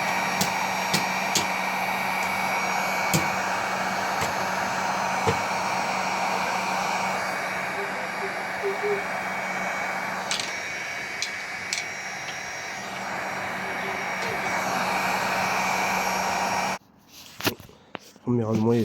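A heat gun or hair dryer blows steadily while heating the bearings of a Piaggio two-stroke engine during assembly, a continuous close whooshing hum for most of the span before cutting off near the end, followed by a few faint knocks.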